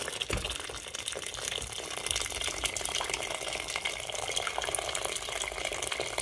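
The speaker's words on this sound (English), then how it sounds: "now I'm going to add some more boiling water to it" Continuous splashing pour of boiling water into a pot of crowfoot soup, steady and close, with no talking over it.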